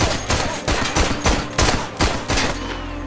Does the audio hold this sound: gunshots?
yes